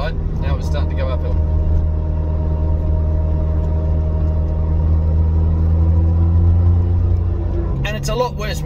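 A Suzuki Cappuccino climbs uphill with a steady, droning whine from its noisy differential layered over engine rumble inside the cabin, and someone talks briefly at the start and end.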